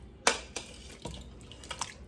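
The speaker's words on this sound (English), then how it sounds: "Okay, so I'm adding some water" Water is poured into a pot of potato soup on the stove, giving a few splashing, dripping bursts close by. One sharp splash comes first, then softer irregular drips and gurgles.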